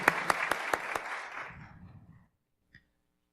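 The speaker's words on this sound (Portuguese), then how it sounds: "Por favor, uma salva de palmas." A lecture audience at the São Paulo municipal audit court breaks into applause of dense, close clapping with a few sharp claps, thinning out over about two seconds. One faint knock follows after a short silence.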